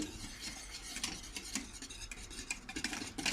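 Milk pudding (muhallebi) stirred in a pot as it thickens toward a boil, a soft continuous scraping of a utensil around the pot with light rhythmic clinks, quiet and close.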